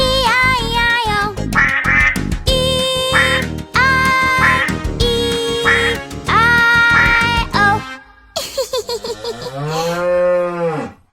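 A cartoon farm duck quacks in a bright, tonal sung-along sequence, with repeated quack-like calls over music, then a long, warbling animated moo-like call near the end, loud and close.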